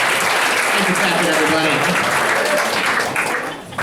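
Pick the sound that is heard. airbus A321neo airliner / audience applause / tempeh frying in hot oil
audience applause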